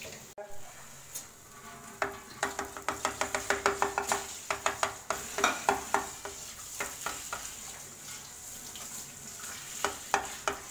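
A paratha fries in ghee in a pan, sizzling steadily with a rapid series of soft crackling pops and scraping stirs, close and fairly quiet throughout.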